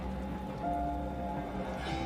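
Steady rain falls in a village during the cold season, a continuous even patter close by with no voices, used as a background effect in a spoken horror story.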